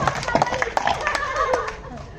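Scattered clapping from an audience at a couple's quiz game, a loose patter of a few hands fading out, mixed with chatter and a little laughter.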